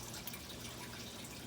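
Water from a pump flows into a 55-gallon food-grade barrel fish tank in a backyard aquaponics system, a faint continuous trickle and splash with no voices.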